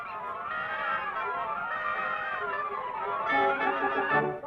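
Goofy birds honk in a rising and falling series of nasal calls over playful music in John Ford's Midway film, fairly loud and continuous with no talk.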